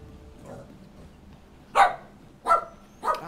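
Dogs bark in the video game Dragon's Dogma 2, three sharp, fairly loud barks spaced about half a second apart after a quiet stretch, with no talking over them.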